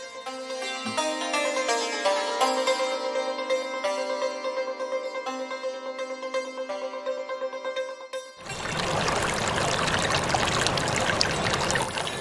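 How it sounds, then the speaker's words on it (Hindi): Water flows in the historic Kukuttha river near Kushinagar, heard as a steady broadband rush that rises in the final seconds after a tonal passage of music fades out. "यह ऐतिहासिक कुकुत्था नदी है।"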